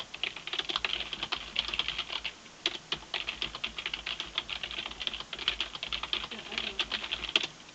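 Fast typing on a computer keyboard to enter game chat in an online card game, a close, steady stream of crisp key clicks with brief pauses, fairly loud and alone.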